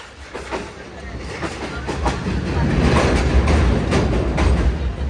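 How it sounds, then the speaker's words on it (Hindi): A passenger train rolling slowly toward the Kotri bridge, heard from inside a coach: a steady low rumble with rhythmic clickety-clack of wheels over rail joints, growing slightly louder and busier toward the end. "तो ट्रेन हमारे इस कोटरे ब्रिज पर अप्रोच बना रही है, लेकिन उससे पहले कॉशन लगा हुआ है"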